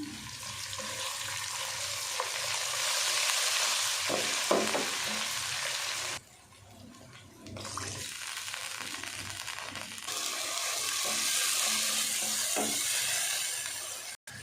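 Whole spices with ginger and garlic sizzle loudly in hot oil in a pan, a steady bright hiss with occasional stirring clatter, interrupted by a few seconds of quieter sound midway before the frying resumes.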